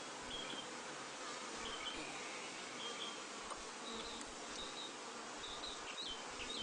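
Honeybees humming inside a hive with congested supers, a continuous dense buzz close by, steady and unbroken throughout.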